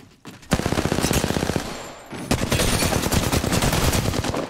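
Rapid automatic gunfire from the video game Apex Legends, loud and close, comes in two long bursts split by a short pause, with dense rattling shots throughout.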